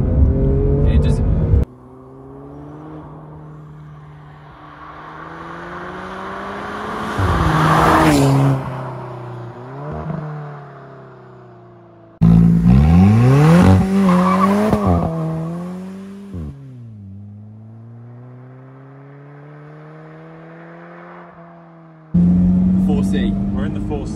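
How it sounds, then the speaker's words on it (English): A turbocharged 2015 Alfa Romeo 4C race pack engine revs and pulls hard through rising gear sweeps, loud and close from inside the car, with people talking over the engine between pulls. "Recap, it's a 2015 Alfa Romeo 4C. It is the race pack."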